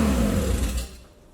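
Mazda RX7 rotary engine, stumbling at start with the throttle not fully closed, roars loudly at high revs for about a second, then drops off quickly and settles into a quieter idle.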